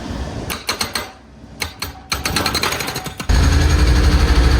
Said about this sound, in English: then jackhammer the corner off here so we can set the shuttering up